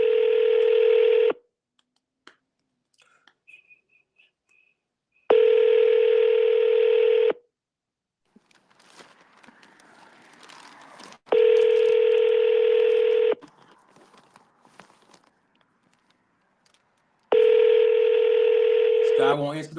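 Repeating telephone ringback tones on a Google Voice call sound in four loud, evenly spaced bursts of about two seconds each, separated by quiet gaps with faint background noise.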